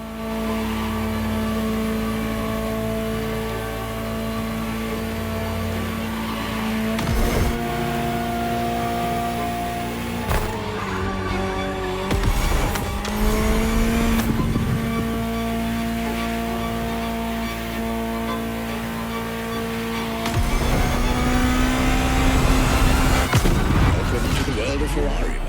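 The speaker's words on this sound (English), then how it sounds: "Just listen to the car you're driving." A Ferrari supercar engine in a racing video game roars continuously, its pitch climbing and dropping as the car shifts gears, with sharp bangs and rushes breaking in along the way.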